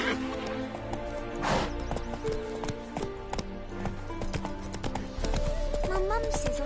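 Roach the horse gallops in The Witcher 3, hooves clip-clopping in a quick, close rhythm under music and a brief spoken line.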